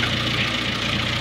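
Ford Cortina classic engine idling at close range, a steady even rumble with no talk over it.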